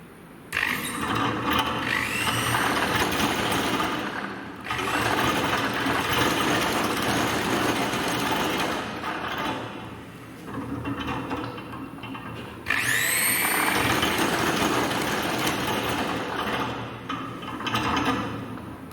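An unbalanced shaft spins on a balancing rig, giving a steady motor hum with rattling and vibration that rises and falls as it speeds up and wobbles on its supports, with two whining run-ups.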